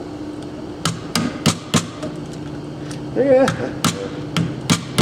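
A hammer taps a rivet out of a circuit board in a sharp, irregular series of close, loud knocks, with a short spoken word partway through.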